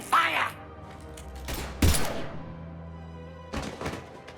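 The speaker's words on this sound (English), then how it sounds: "Now open fire!" Gunfire in Mass Effect 3, heard as a few sharp, loud blasts separated by pauses, with a lower rumble between them and voices around the shots.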